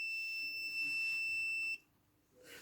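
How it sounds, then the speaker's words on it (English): A cold start valve from a Mercedes KE-Jetronic fuel injection system buzzes under test power: a steady, loud electric tone that cuts off abruptly, leaving a quiet hiss and faint rustle. "this is what you should get, a buzzing sound"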